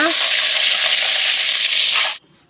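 Used oil left over from making appam is poured into a hot pan and sizzles loudly at close range. The fierce crackling hiss holds for about two seconds, then cuts off abruptly into near silence.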